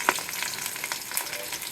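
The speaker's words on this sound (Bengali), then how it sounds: "আমার তেল গরম হয়ে গেছে, পেঁয়াজ আর কাঁচামরিচগুলো দিয়ে দিলে" Onions and green chillies crackle and sizzle in hot oil, a busy, continuous spitting of frying with small pops.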